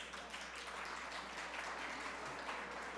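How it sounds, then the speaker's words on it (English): Distant, faint applause from a Unitarian Universalist church congregation honoring two members, a soft, even crackle of many hands clapping with no clear individual beats. "let's get a quick round of applause for Bob and Diane"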